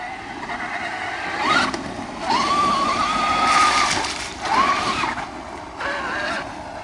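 Traxxas X-Maxx RC trucks churn through heavy mud, with a high electric motor whine rising and falling in several full-throttle bursts over a wet, rumbling background.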